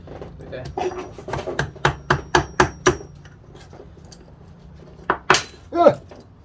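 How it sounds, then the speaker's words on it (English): Metal hammer blows strike a circlip onto a VW 02M six-speed gearbox shaft, a run of about eight sharp metallic taps in quick succession, then a pause and a few more hits, with people talking briefly. "Hammer it."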